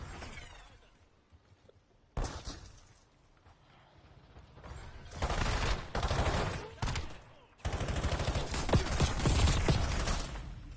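Dual-wield pistols in the video game Black Ops 7 firing rapid bursts at close range, coming in clustered volleys that grow louder and denser toward the end, over game background noise.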